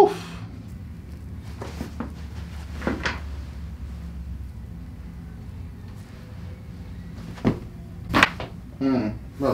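A chiropractic neck adjustment, with a few sharp cracks and pops close up against a quiet room, several sudden clicks grouped near the end, and soft rustling between them.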